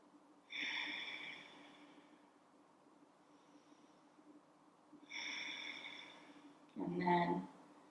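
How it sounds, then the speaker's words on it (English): Slow, deep breathing during a yoga class: a long breath in, a pause, another long breath, then a forceful exhale, close and clear in a quiet room. "one more breath here"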